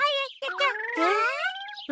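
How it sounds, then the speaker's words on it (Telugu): A cartoon parrot in a Shinchan episode lets out a voiced, warbling squawk with sliding pitch, loud and close, with a short exclamation before it. "అరే, చిలకొచ్చిందేమిటి?"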